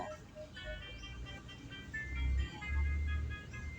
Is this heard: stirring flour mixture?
no